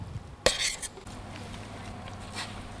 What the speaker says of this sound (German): Jetzt rühren wir das Ganze gut um, dass es eine schöne Masse wird